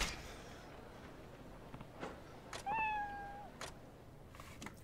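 A single clear meow from a cat in the video game Like a Dragon: Ishin, close and fairly loud, rising out of soft in-game background noise and scattered light clicks.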